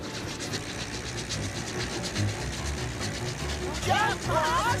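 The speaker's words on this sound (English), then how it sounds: "Runaway train!" A runaway train in a cartoon rattles and clatters along with a rhythmic mechanical clacking, a steady rolling rumble underneath, while a voice shouts over it near the end.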